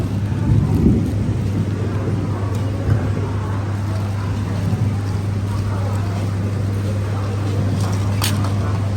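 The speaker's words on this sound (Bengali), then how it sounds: "সুন্দর ঝুম বৃষ্টি করতেছে" A dense, steady roar of heavy rain in Thailand fills the scene, with a constant low hum underneath and occasional faint knocks.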